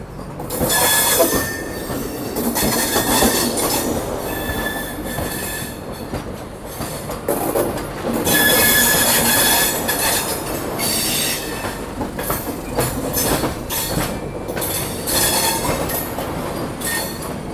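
Indian passenger train, the Alappuzha–Dhanbad Express, running steadily with rumbling wheels, rail clatter and intermittent squeal throughout, loud and continuous with no talk.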